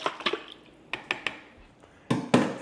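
Spoon clinking and scraping against a container while mixing powdered descaler into warm water, a few sharp irregular taps and stirs, close and fairly quiet.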